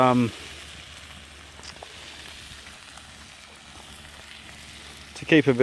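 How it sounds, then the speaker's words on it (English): Fatty food frying on the hot plate of a wood-fired bush stove, a steady close crackling sizzle that runs throughout, with brief speech at the start and again at the end. "we're just cooking some extra fatty stuff"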